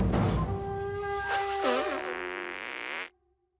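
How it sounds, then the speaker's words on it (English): A long, sputtering cartoon fart from South Park: The Stick of Truth blares loudly for about three seconds, with a wobbling, bending pitch, before cutting off abruptly into silence. "You call that farting on someone?"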